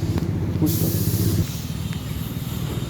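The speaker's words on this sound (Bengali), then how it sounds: "এই যে দেখুন চলছে, এটা পাম্প চলছে।" A water pump switched on and running, giving a loud, steady hissing rush that eases slightly partway through and then continues evenly, with no speech.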